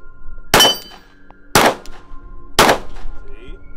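Three loud Glock 19 pistol shots fired at an even pace about a second apart, each a sharp crack with a short ringing tail, close by.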